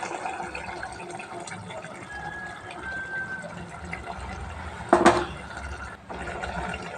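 Water runs steadily into a mixer jar as it is rinsed out while making South Indian chicken gravy, a continuous close splashing with one brief louder clatter partway through.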